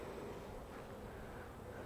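Honey bees working in an open hive make a faint, low, steady buzz for a couple of seconds, ending with a short knock.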